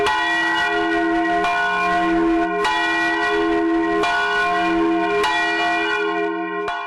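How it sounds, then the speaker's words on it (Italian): The bell of the old Longarone church rings out in slow, evenly spaced loud strikes, each leaving a long resonant hum that fades before the next, with no voices. "È la campana della vecchia chiesa di Longarone"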